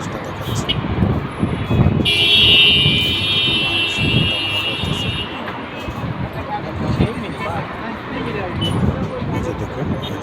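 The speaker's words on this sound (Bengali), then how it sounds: "এই যে দেখুন গাড়ি চলতেছে" Cars drive along a road below a bridge in Saudi Arabia, making a continuous low traffic rumble with a passing engine whine, while a voice talks over it.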